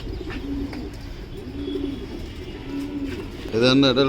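Racing pigeons in a breeding loft coo in repeated low, rolling calls, close and clear, before a person's voice briefly cuts in at the end.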